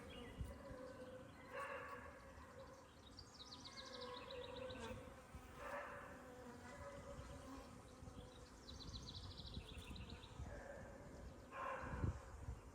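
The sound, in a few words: honey bees buzzing in a nuc hive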